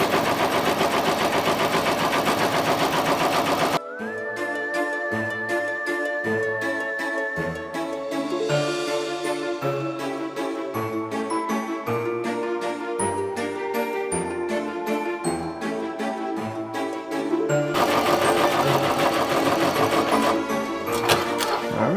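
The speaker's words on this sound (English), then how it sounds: "Now it's doing the satin stitch around the T." An embroidery machine stitches a satin stitch on a trick-or-treat bag, a fast rapid mechanical rattling with tonal whirring, loud and close, with steady dense bursts of stitching and no voices.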